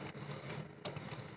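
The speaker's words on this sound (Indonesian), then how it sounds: "kita lihat saat-saat ujung kertas lepas dari penjepit bahan dan gear depan masih menarik" A DTF printer's front gear pulls PET film through as the edge of the sheet slips free of the material clamp, giving a steady, faint mechanical whir and clatter with one sharper click midway.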